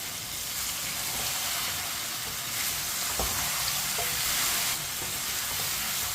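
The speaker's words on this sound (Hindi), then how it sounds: "चिकन डाल लेंगे। चिकन को मिक्स कर लेंगे।" Chicken pieces hitting a hot pan and being stirred in oil for a summer kaddu chicken dish, giving a steady broadband sizzle with a few soft clinks and scrapes and no talking.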